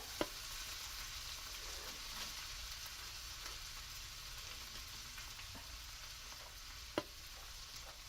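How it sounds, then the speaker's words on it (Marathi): Snake gourd pieces stir-fry in oil, a soft, even sizzle that holds steady, broken by a couple of sharp utensil clicks. "पडवळ सुद्धा आपण पाच मिनिटं ह्या तेलामध्ये फिरवून घेत आहोत"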